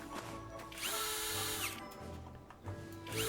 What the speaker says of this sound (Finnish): kokeilusta poralla